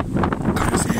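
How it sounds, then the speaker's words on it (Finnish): Strong outdoor wind buffets a microphone clipped to a phone on a hot, windy day, giving a loud, constant low rumble and roar with gusty swells across the whole second and no speech. "kun on niin tuulinen ilma"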